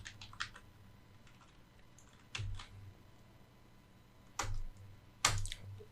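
Computer keyboard typing while entering end credits in Adobe Premiere, a few sparse key taps and short bursts of clicks, quiet and close, spaced out with pauses and no talking.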